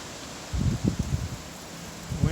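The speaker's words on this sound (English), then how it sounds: "little bit windy." Wind gusts rush through trees on a blustery May day, coming in several loud bursts over a steady low background roar.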